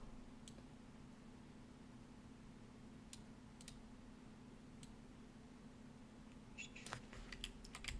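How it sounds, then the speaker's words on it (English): Keys are tapped on a computer keyboard to nudge items by small amounts in a design layout. A few faint, scattered clicks sit over a low steady hum, with a quick cluster of taps near the end. "I'm using the keys on my keyboard to like do micro moves"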